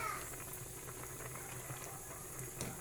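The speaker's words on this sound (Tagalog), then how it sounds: "Tatakpan natin at papakuluan natin lumambot hanggang lumambot." Pork nilaga simmers in a covered pot, a quiet, continuous bubbling boil with a faint watery hiss and a few slightly sharper pops near the end.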